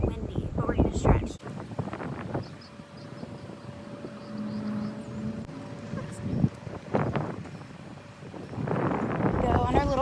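Gusty wind blows across a microphone outdoors before a warm-up walk and run, a steady rumbling buffet with stronger surges at the start and end, while a person talks intermittently over it.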